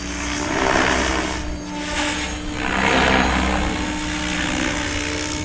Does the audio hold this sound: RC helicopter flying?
yes